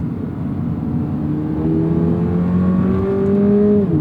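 A 2023 Toyota GR86 10th Anniversary Special Edition with an automatic transmission revs up, its engine tone climbing steadily and loudly before a late upshift drops the pitch near the end, with no talking over it.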